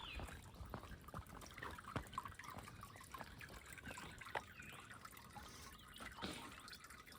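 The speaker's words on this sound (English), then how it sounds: "the trickling water coming in, feeding this little lake" Small stream of water trickling steadily into a little lake, with a soft, continuous babbling wash under outdoor ambience and no talk.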